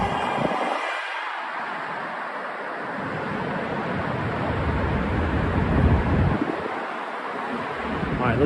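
Heavy wind buffeting a microphone beside the 59th Street Bridge at night in Midtown Manhattan, a continuous loud low rumble that swells and drops in gusts across the whole stretch.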